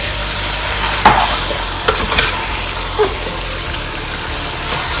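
Chicken pieces coated with green chilli, onion and garlic being turned over in a frying pan for spicy Andhra chicken curry: continuous loud sizzle with a few scraping stir strokes.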